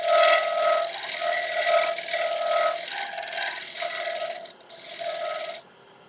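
A wood lathe gouge used as a shear scraper on a spinning wooden bowl gives a steady, bright scraping hiss with a rhythmic pulsing from the turning wood, fading out near the end.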